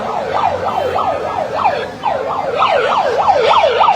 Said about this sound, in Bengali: সাইরেন বাজিয়েও পাবলিককে সরানো যাচ্ছে